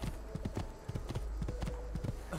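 Horse hooves clip-clop in a quick, steady gallop rhythm as a rider crosses open fields in the video game Assassin's Creed 2, close and continuous over a low background hum.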